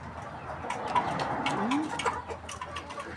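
Several farm chickens fed for slaughter cluck and murmur softly in a dense, continuous backyard chatter, with scattered faint calls over a steady low background.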